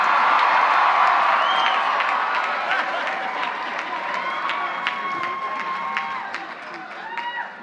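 A large college commencement audience stands, claps and cheers, with scattered whoops and voices rising above the sustained applause, which gradually tapers.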